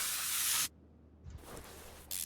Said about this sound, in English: Spray some WD-40 on that.